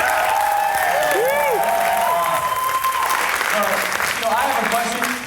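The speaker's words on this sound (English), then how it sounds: "We're going to give them another round of applause." Sustained applause for a group of dance performers at a spring showcase, loud and steady crowd clapping with whistles and cheers rising over it.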